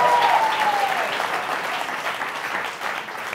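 Steady, loud applause from a crowd, dense clapping that continues throughout, with a brief whistle-like tone at the start.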